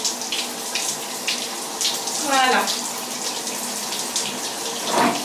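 Tap water runs steadily as a cat is rinsed of soap, a continuous hiss with occasional splashes and gurgles, while someone speaks briefly over it.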